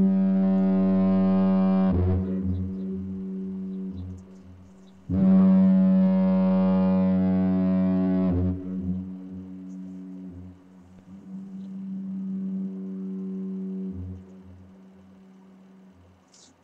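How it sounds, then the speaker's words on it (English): A single 1929 diaphone foghorn sounds two loud, deep, steady blasts of about two and three seconds, each ending in a grunting drop, followed by a long fading echo. "So this is a single diaphone foghorn"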